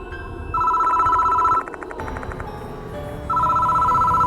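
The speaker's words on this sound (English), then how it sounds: "The phone on the desk is ringing." A desk telephone rings in the horror adventure game Spirit Hunter: Death Mark II. Two bright electronic trill bursts are separated by a short gap over a low ambient drone, close and loud, with no talking.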